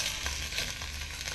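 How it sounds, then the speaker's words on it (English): Green curry sizzling and frying in a pan with shrimp and vegetables, a steady close hiss with light stirring scrapes and no talk. "So you can just mix this around in the pan a little bit and start to get it to fry."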